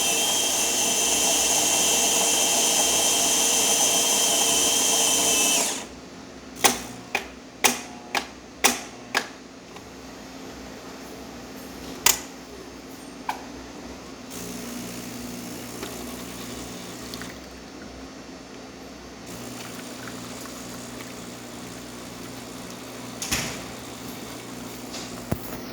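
Gaggia Titanium espresso machine pulling a test shot: a loud, steady pump hum for about five seconds stops abruptly, followed by a string of sharp clicks and taps and a quieter low background drone.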